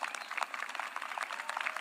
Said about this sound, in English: At the stroke of midnight, that's worth applause